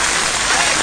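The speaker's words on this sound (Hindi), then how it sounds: "यहाँ पर बारिश लगातार हो रही है" Heavy rain pours down in flooded Delhi streets as floodwater rushes past, a loud, dense, unbroken hiss of water close by, with no pauses.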